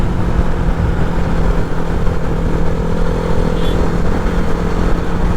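A Bajaj Pulsar NS200 motorcycle being ridden in hot sun gives a continuous, close engine drone mixed with road and wind rumble, steady and unbroken with no talking.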